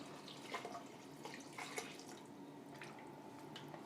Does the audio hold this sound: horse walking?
no